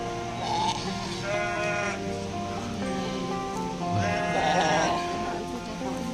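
Goats bleat several times, close and loud, while being moved along a slippery road near Bandungan, their wavering cries mixed with people talking.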